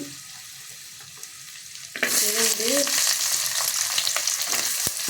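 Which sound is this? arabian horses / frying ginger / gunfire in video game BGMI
frying ginger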